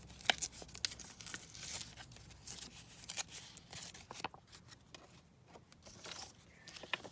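Paper is torn slowly by hand for an ephemera craft: soft, close crinkling and ripping that comes in uneven bursts, quiet overall.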